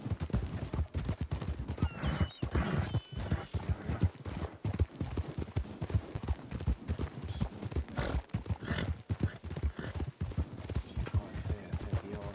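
Horse hooves clip-clop steadily and loudly at close range in the western video game Red Dead Redemption 2, a dense rhythmic run of hoofbeats continuing throughout with no talk.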